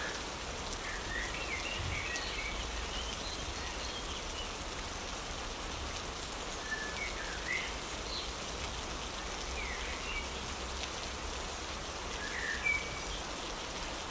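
Steady rain falls outdoors in a dense, even hiss, with scattered drops pattering on nearby surfaces and no voices for the whole stretch.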